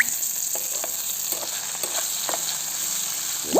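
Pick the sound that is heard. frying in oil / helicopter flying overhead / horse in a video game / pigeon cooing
frying in oil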